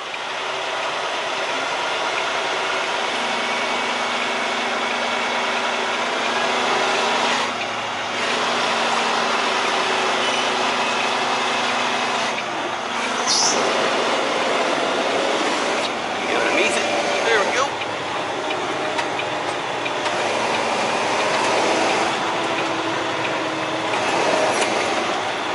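A large truck idles and maneuvers in reverse into a loading dock, its engine droning steadily with faint beeps and clanks over a noisy outdoor background.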